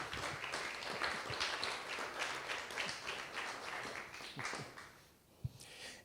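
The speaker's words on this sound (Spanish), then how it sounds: "yo creo que debería recibirle con un aplauso" Audience applause welcoming a guest to a Spanish talk event with a photojournalist, a moderately loud spread of clapping that thins out toward the end, with a single sharp clap near the close.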